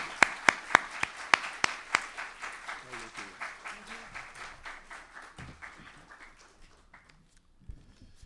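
An audience at a literature lecture claps after the talk, a few sharp near claps leading into steady rhythmic applause that gradually fades, with a voice briefly heard at the very end.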